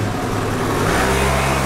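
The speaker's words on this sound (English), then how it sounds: "And motorbikes on the footpath." Loud, close engine noise with a steady roar as motorbikes pass on a footpath in Taipei, the revving building slightly toward the end.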